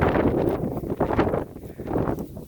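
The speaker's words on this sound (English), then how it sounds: "it's windy, bear with me here" Steady outdoor wind in a crop field buffeting the microphone, a broad rushing roar that swells and dips in gusts throughout.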